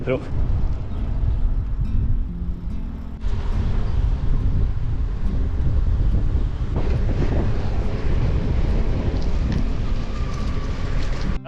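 Steady wind roars and buffets the microphone while riding a Romet Boreas bicycle, a constant low rumble with gusty surges.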